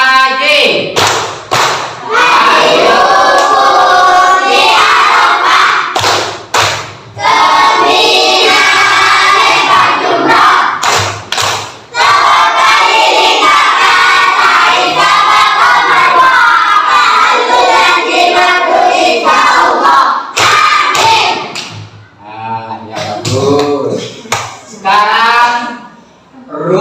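Primary school pupils in an Islamic fiqh class perform the rhythmic 'tepuk haji' clap chant, loud bursts of unison clapping mixed with shouted chanting voices, repeated in patterned phrases.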